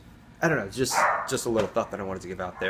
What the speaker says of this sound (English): you'll have to excuse the dogs barking their mouths off